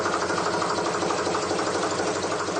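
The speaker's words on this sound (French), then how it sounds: "Le vieux moteur tourne comme une horloge suisse." Old boat engine on a Canal du Midi boat, started with a homemade electric starter, idles with a steady, even mechanical chatter that holds constant and close throughout, with no voices.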